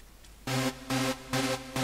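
Synth sound played in FL Studio using two layered Nexus patches, four sustained bright chord stabs in an even rhythm, each about a quarter second long with short gaps, clean and without voices.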